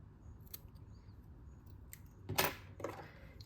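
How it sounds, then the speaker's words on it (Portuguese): A single quiet snip of scissors cuts excess nautical cord while a crochet bag is being made, one brief crisp cut followed by a softer second sound against low background hiss. "vou cortar o excesso desse fio"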